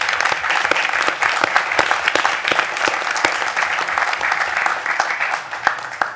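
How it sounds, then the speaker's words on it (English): An audience at a university board of regents meeting claps in sustained, dense applause, loud and even throughout. "So let's give her a round of applause."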